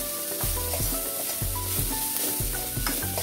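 Ground spices roast in oil in a pan over a low flame, giving a steady close sizzle with the rhythmic scrape of a spoon stirring through them, and no voices.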